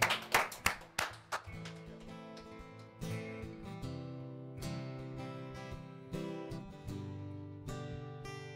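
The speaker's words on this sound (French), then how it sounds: "On les applaudit bien fort" An audience claps and applauds for the band at a small live show. The burst of clapping lasts just over a second before acoustic music and singing take over.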